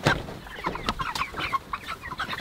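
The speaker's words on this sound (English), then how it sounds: "And what are you doing, chickens?" Freedom Ranger and Cornish Cross chickens clucking close by in short, irregular bursts, several birds overlapping with no talk.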